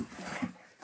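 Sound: puppy whimpering

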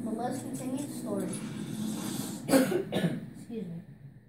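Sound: cough

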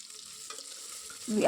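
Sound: chopped onions sautéing in a pressure cooker

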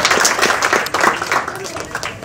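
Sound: audience applause for graduating class

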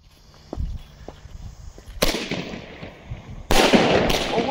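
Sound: Egyptian star firecracker from Biedronka exploding

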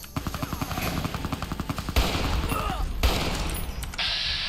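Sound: gunfire in the video game Fallout New Vegas

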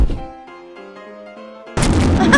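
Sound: tiny grenade explosion in video game Squid App Game

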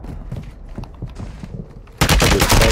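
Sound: gunfire in a Call of Duty Warzone Resurgence video game

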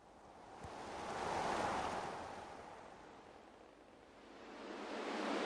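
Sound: creek water flowing

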